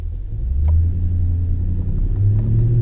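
A deep, steady engine rumble from a Toyota Tundra pickup with an aftermarket BAmuffler exhaust replacing the TRD exhaust, loud and close, with a slight rise in revs toward the end.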